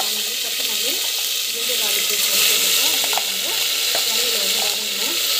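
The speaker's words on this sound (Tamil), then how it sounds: "அந்த பச்சை வாசம் போகிற வரைக்கும் நல்லா வந்து வதங்கணும்." Ground masala paste fries in a pan with a dense, hissing sizzle while a spoon stirs and scrapes repeatedly, heard up close and fairly loud with only faint background voices.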